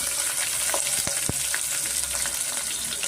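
A large amount of onion fries in a pan for soya pulao, a close, steady sizzle broken by a few sharp stirring clicks and knocks, with no one speaking.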